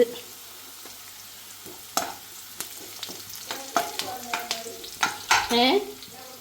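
Curry leaves hit hot oil in a pan and sizzle, with scraping stirs and clattering ladle knocks building toward a louder burst of frying near the end; close and distinct, no talking.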